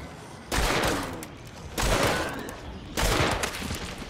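Three heavy, booming revolver shots from a Schofield in the video game Hunt: Showdown, spaced roughly a second and a quarter apart, each with a sharp crack and a long echoing tail.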